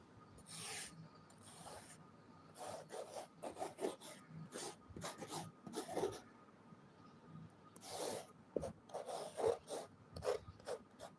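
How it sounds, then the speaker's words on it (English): A finger or stick scrapes through beach sand in short, irregular rasping strokes, close and quiet, as names are written out, with no voices. "We are doing name writing on the sand, guys."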